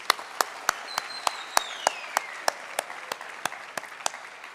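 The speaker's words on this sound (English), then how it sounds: "Another hand of applause, please." At a university graduation ceremony, sharp claps land in a slow, regular rhythm, evenly spaced and close, over a faint hall ambience with a thin whistling tone drifting past.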